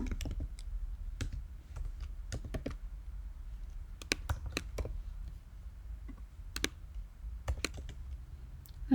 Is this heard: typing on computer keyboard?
yes